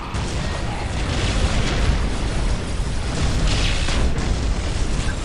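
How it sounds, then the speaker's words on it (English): A looted Ork tank fires in the Warhammer 40,000 strategy game Dawn of War: Dark Crusade, producing a loud, sustained booming roar of heavy cannon blasts and rumbling explosions that fills the whole stretch. "This tank makes the loudest boom."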